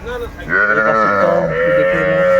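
A young Sahiwal bull calf, around two to three months old, at a cattle market in Noakhali, gives one long, loud, wavering bleat that goes on for more than two seconds, close to the listener.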